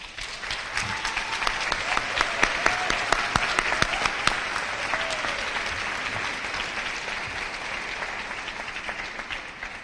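A graduation audience at an 8th grade ceremony breaks into applause, sharp individual claps standing out over steady clapping that peaks early and gradually fades over about ten seconds.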